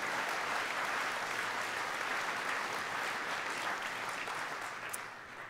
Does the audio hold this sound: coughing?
no